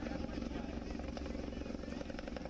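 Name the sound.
helicopter arriving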